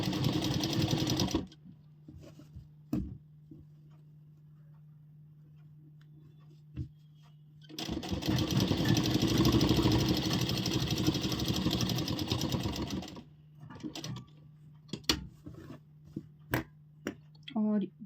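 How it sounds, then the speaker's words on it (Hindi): Sewing machine stitching along a folded edge of salwar fabric, running in two loud bursts with a steady motor whir between quieter pauses filled with soft handling clicks and taps. "इसके ऊपर से हम यहाँ पर सिलाई लगाएंगे"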